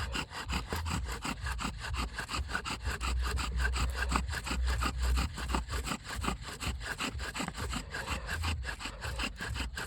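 A wooden friction fire drill rubs rapidly against a wooden board, producing a steady, rhythmic back-and-forth scraping that is loud, close and continuous, with no talk over it.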